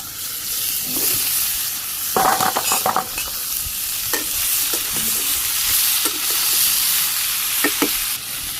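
Potatoes and vegetable stems fry in a pan on a clay stove on a rooftop, with a steady low sizzle and occasional scraping stirs and clatters. No one speaks.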